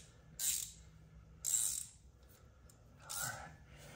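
A ratchet with a 13mm socket clicks in three separate short bursts on the drain bolt of a KTM during an oil change. The close, crisp pawl chatter is spaced by quiet pauses.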